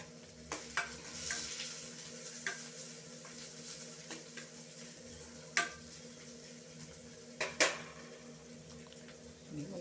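Onion frying in a pan for a drumstick-leaf tempering, a steady low sizzle broken by several sharp scrapes and clinks of a spoon stirring against the pan, close and fairly quiet with no talk.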